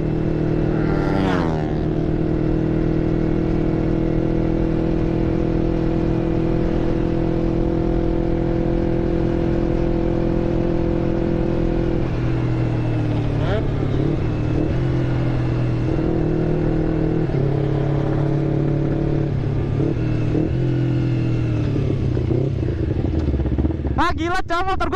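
A Honda CBR250RR and a Kawasaki ZX25R race on a 500 m track, their engines droning loudly and continuously with rising and falling revs and gear changes throughout, close and constant.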